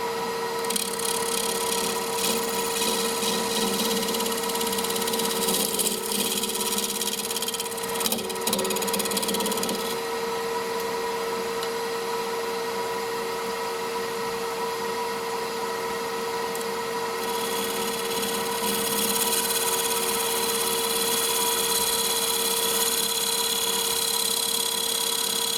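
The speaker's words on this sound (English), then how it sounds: "There it is on the lathe, just trimming up the clear acrylic." A wood lathe spins while a tool trims a clear acrylic piece for a clock, a steady hum with scraping cutting noise that fades and returns, close by.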